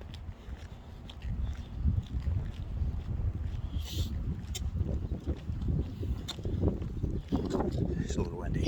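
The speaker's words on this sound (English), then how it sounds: "It's a little windy." A low, steady rumble of wind buffets the microphone outdoors, with faint talking and occasional knocks beneath it.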